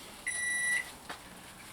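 A microwave oven's single steady electronic finished beep with bright harmonics, lasting about half a second, followed by faint clatter in a quiet room.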